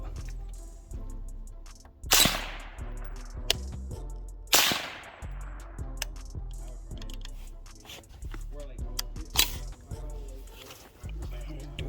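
Firearms fire at an outdoor shooting range: several sharp, loud gunshots ring out at irregular intervals, with two especially strong reports early on, amid clicks and handling noise from the guns.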